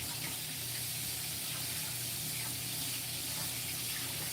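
Tap water runs steadily and splashes as a lime is washed under the faucet, a constant broad hiss with no talking.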